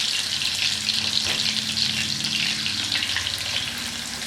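Catfish fillets fry flesh side down in a pan, giving a loud, dense, steady sizzle with faint crackle throughout.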